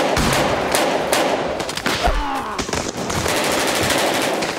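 Bursts of automatic gunfire rattle loudly and close, rapid overlapping shots from several weapons with a brief lull midway before the firing resumes.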